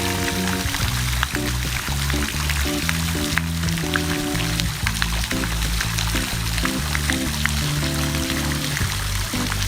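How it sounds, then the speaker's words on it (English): Water from a plastic fountain on a garden hose sprays into the air and splashes down into a swimming pool, a steady, continuous rush and patter with a low tonal hum running underneath. "It's just squirting the water through the hose up through the plastic fountain there, up into the air."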